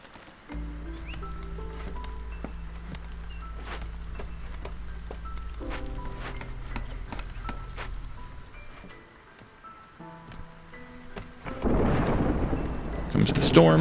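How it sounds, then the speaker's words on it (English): A thunderstorm in the colony-building game Against the Storm: steady rain hiss under a low rumbling bed, with a loud crack of thunder and heavier downpour building toward the end. "Comes the storm."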